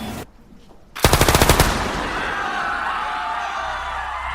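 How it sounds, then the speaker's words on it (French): A rapid burst of submachine-gun fire rattles out loudly for about half a second during a bank hostage-taking in Stockholm, followed by lingering echo and crowd noise. "Un seul coup de feu déchire l'air"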